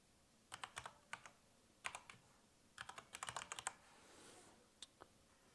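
Keys tapped on a computer keyboard while entering a Wi-Fi network password during Raspberry Pi setup, quick irregular clusters of soft clicks with brief pauses, close and quiet.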